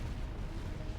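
Explosions from a bombing run in the strategy game Art of War 3, a dense, continuous low rumble of blasts with no clear separate hits, fairly quiet and steady for about a second, with no talk.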